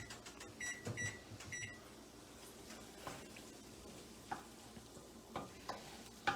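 Moambe chicken sauce with onions and tomatoes cooks in a pan, a faint low sizzle with occasional stirring clicks and scrapes of a utensil.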